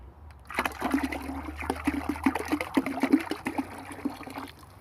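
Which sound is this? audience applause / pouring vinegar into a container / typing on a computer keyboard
pouring vinegar into a container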